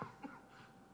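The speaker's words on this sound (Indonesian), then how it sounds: "Lagi batuk." A single short cough in a quiet courtroom hearing, close and soft, with no talking over it.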